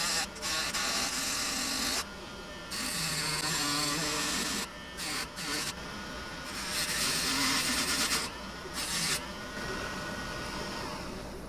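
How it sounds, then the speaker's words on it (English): Dremel rotary tool cutting through PVC pipe with galvanized pipe inside, a steady high grinding whine that runs in several bursts with brief pauses between them, close up. "Don't know if I can cut this with this Dremel"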